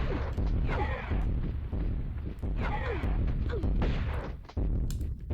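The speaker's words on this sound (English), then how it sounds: "Bring out the shotgun." Shotgun blasts fired at a T-Rex in the Tomb Raider game Lost Valley, several heavy booming shots spaced about a second apart amid game noise and a short break before the last blast.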